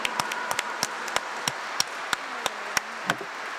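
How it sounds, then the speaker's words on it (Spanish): Sparse, sharp handclaps at a church Mass in honor of Our Lady of Luján, a dozen or so distinct claps in a slow, uneven rhythm, with a faint voice beneath. "Le damos otro aplauso a nuestra Madre"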